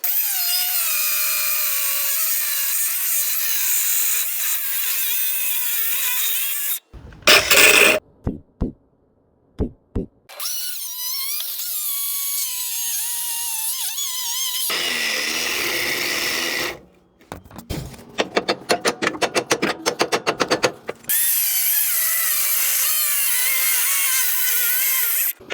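An angle grinder cuts the back side of a rear leaf spring on a Freightliner truck, a harsh, loud grinding whine that stops and starts in bursts, with choppy pulses in the middle stretch and no voices.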